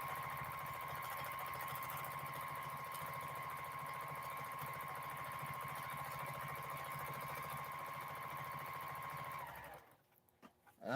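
A sewing machine running steadily during ruler quilting, a continuous even mechanical hum with a fine rapid stitching rattle that carries on unbroken before stopping abruptly near the end, followed by a few light handling noises.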